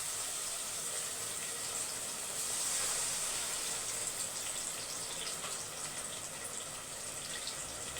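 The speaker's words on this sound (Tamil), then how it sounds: "இப்போ வந்து தண்ணி சேர்த்துக்கலாம்" A faint, steady hiss of water streaming into a pan of egg, vermicelli and beetroot, soft and continuous with a slight swell partway through.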